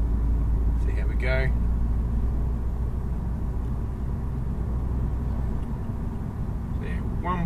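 A twin-charged 1.4 litre VW Golf climbs a mountain road, heard from inside the cabin as a steady, loud, low engine drone, with a couple of short bursts of talk near the start and end.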